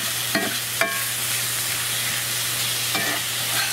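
Onions with sour cream and water being stirred in a frying pan for lamb liver, with a soft steady sizzle broken by a few brief scraping strokes of the spoon.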